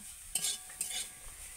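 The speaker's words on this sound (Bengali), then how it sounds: "নারকলটাকে একটু নেড়ে নেব" Grated coconut being stirred in a wok, two quick scraping strokes of a spatula against the pan with a faint sizzle, close and quiet.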